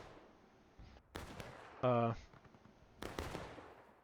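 Gunfire in a multiplayer American Civil War battle game, a few scattered sharp musket reports with one louder ringing shot in the middle, spaced apart over a quiet background.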